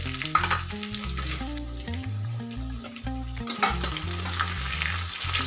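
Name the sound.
mustard seeds and cumin sizzling in hot oil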